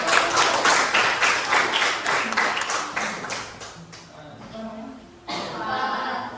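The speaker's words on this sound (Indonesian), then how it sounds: "Tepuk tangan dulu" A school class clapping hands together in a rhythmic series of loud, regular claps, which breaks off midway into quieter scattered sound before a brief burst resumes near the end.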